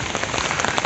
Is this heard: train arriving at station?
no